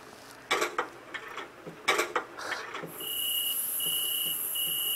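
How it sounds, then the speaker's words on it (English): Cicadas in the horror game The Joy of Creation: a steady high electronic-sounding buzz sets in midway and holds, with a thin pulsing whine, after several sharp clattering knocks. "Ah, the beautiful sound of the cicadas."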